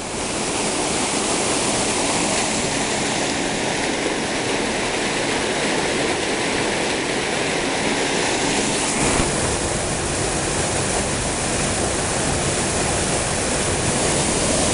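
Steady rushing water pours continuously from tiny waterfalls in a desert canyon, a broad hiss of small falls close by, with no other sounds standing out.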